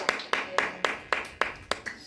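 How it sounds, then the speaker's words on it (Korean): A church congregation claps together in a steady, evenly spaced rhythm, about eight crisp claps in two seconds, close and clear with no voices over them. "우리 축하해 박수 한번 쳐주시기 바랍니다"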